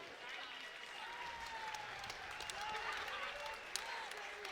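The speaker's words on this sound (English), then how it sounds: "a round of applause for these two fighters" Applause from an audience after a mixed martial arts bout ends by knee bar submission, steady and somewhat distant clapping under a low crowd murmur.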